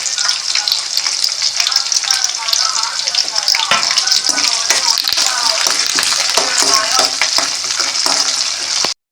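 Garlic cloves frying in plenty of oil for a green turkey berry kuzhambu, a loud, steady, continuous sizzle close up with occasional stirring scrapes, under a voice talking throughout.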